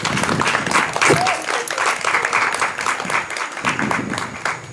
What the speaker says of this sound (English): please give these ambitious, intelligent, gorgeous young ladies a round of applause